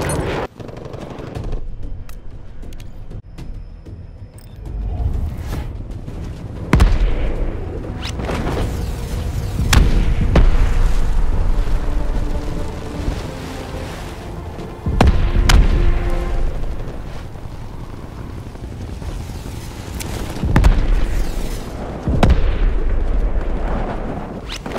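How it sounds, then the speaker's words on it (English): Apex strike in the Call of Duty Warzone video game: a series of heavy booming explosions, about five loud blasts spread across the clip with rumbling debris and crackle between them, no talk. "Sitrep, Apex strike inbound."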